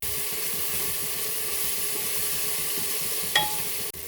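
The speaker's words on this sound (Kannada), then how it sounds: "ಟೊಮೆಟೊನ ಹಾಕ್ಕೊಂಡು ಫ್ರೈ ಮಾಡ್ಕೊಳ್ಳಿ" Chopped tomatoes fry in a pan with a steady, close sizzle and hiss that holds throughout, with one brief clink near the end and no talking.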